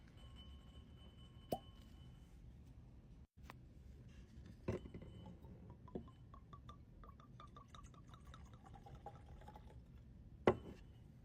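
Bottle of French mocha stave beer opened and poured into a glass, with a few sharp clicks and pops from the cap and glass, then a steady run of small fizzing, bubbling sounds close by, no talking.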